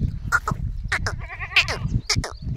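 Several close, quavering goat bleats in quick succession, loud and nasal, with little else around them.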